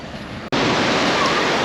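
Ocean surf at Palm Beach, Florida, as the tide comes in: a steady, loud roar of breaking waves with wind buffeting the microphone, briefly cut off before resuming.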